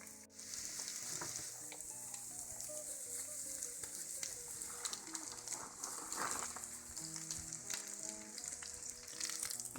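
Beef, onions, carrots and celery frying in a pot for goulash soup, a dense, continuous sizzle with crackling pops throughout, close and steady, with no talk.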